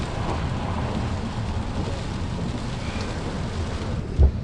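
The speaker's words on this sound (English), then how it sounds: "the spring-like weather with the hail coming down" Spring hail comes down on a narrow Amsterdam street, the Naarderstraat, a dense steady patter and hiss filling the scene, with one brief thump near the end.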